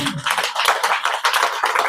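Congregation clapping during a Monday church service, a dense, continuous patter of many hands filling the room at steady loudness with no pauses.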